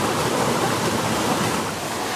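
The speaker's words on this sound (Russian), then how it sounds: "Вот она, горная река бежит." A mountain river in the Crimean canyon near the Blue Lake rushes steadily, a dense, continuous watery roar that stays loud and unchanging throughout, with no voices.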